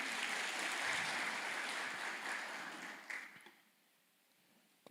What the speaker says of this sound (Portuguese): Palmas de Deus para esse texto